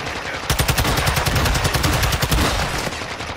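Rapid automatic gunfire aimed at the player in a Call of Duty Modern Warfare 2 DMZ match: a loud, dense string of close shots in quick bursts lasting several seconds, with no talking over it.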